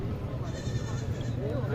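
Goats bleat at a busy livestock market in Lahore, where a doe has just given birth to five kids; the bleats sit under constant crowd chatter and nearby talk.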